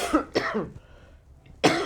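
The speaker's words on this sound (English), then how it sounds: "I have to do this because I'm coughing." Two sharp, harsh coughs close to the mic, a quiet pause, then a third cough bursting in at the end.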